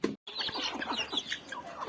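Chickens cluck and chatter continuously, several birds close by making short, overlapping calls after a brief cut at the start.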